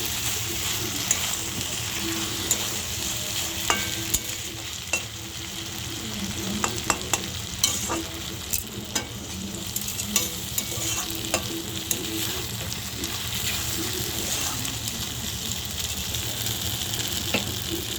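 Taro stolons and prawns stirred in a frying pan, steady sizzling with scattered clicks of the spoon scraping the pan, continuous and close.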